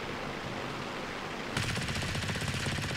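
Rapid machine gun fire from a Spitfire V in the World of Warplanes game starts abruptly halfway through and rattles on continuously over a dense, steady roar of engine and wind.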